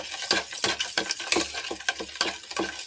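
Sugar being mixed into a chocolate banana cake batter, a steady run of soft rhythmic scrapes and taps of a spoon against the bowl, close and fairly quiet.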